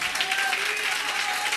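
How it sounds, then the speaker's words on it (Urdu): An audience claps for a preacher, a short burst of dense, fairly close applause with a voice speaking over it. "آپ کی بھرپور پرتپاک تالیوں میں, زوردار تالیاں"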